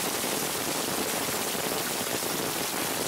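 Heavy storm rain falls in a steady, dense downpour, a loud continuous hiss of drops across the whole clip with no voices.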